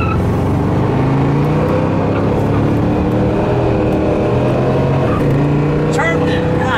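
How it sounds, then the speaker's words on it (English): A car with a burnt transmission runs under load, its engine drone holding steady tones that step as gears change hard, with people talking over it throughout. "That thing's shifting hard right now."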